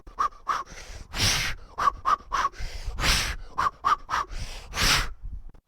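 Rhythmic breathing during rowing, close and clear: short sharp sniffs and gasps alternate with longer forceful exhales in a repeating pattern, with no speech.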